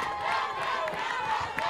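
A crowd cheers at a high school football match between PSJA Southwest and Georgetown East View, a steady distant roar of voices and shouts at moderate level, with a commentator's voice mixed in.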